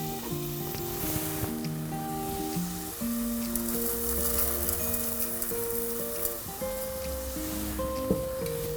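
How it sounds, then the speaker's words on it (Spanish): Rice goes into a pan of chicken curry and sizzles with a soft, rain-like hiss, faint and continuous beneath background music. "Vamos a agregar el arroz."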